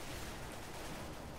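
Dense, continuous gunfire in Counter-Strike: Global Offensive during a team deathmatch on the Aztec map, a steady wash of overlapping shots and rattling bursts at a constant level, with no voices.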